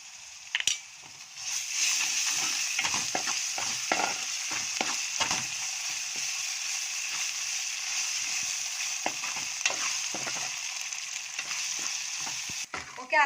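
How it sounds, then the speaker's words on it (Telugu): Ginger garlic paste frying with onions in a pan gives a steady, close sizzle, broken by frequent scraping and clattering stirs, then ends with a sharp knock. "అల్లం వెల్లుల్లి పేస్ట్ బాగా ఫ్రై అయింది కదా"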